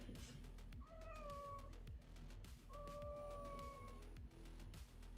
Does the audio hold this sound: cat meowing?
yes